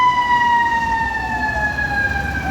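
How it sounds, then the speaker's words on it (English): Emergency sirens wail on a New York City street, a loud, steady rising-and-falling tone that carries unbroken over the low roar of traffic, with no talk. "I'm hearing sirens in just about every direction."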